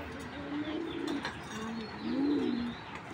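A big black checker female racing pigeon with long feathers coos in soft, low rolling calls, two or three drawn-out phrases close by over a quiet background hum.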